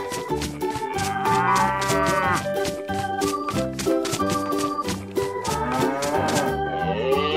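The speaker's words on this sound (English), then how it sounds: "Cow." Cow moos ring out in long drawn calls over a busy, rhythmic music track, the lowing rising above the backing twice.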